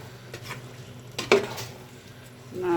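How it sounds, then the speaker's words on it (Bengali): Rice and boiled meat are stirred in a pot for tehari, soft scraping and a sharp utensil knock against the pot over a faint simmer, brief and close. "নাড়াচাড়া করে দিচ্ছি।"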